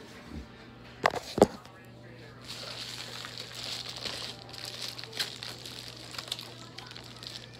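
Plastic packaging crinkles and rustles as a bag of shirt-making tools such as weeding tools and scissors is opened, with two sharp crackles early on, then steady close handling noise.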